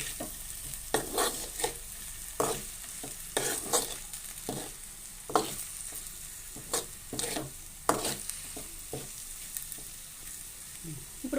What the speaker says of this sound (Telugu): ఈ ముక్కలను కూడా ఒకసారి ఇవన్నీ కలిసేలాగా కలుపుకోవాలండి.